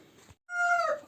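Farmyard poultry in a village call out as they are released, a short cluck followed by a loud, drawn-out crowing cry close by.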